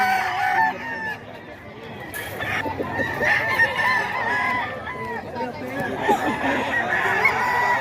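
A crowd of chickens and roosters at a poultry market clucks and crows constantly, overlapping calls near and far with a busy background, and people talking faintly at times.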